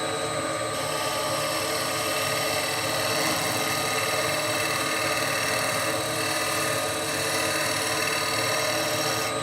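A wood lathe spins a bowl while a gouge takes small, fine shavings in a finishing pass, giving a steady loud whirring hum with a constant motor drone and no breaks.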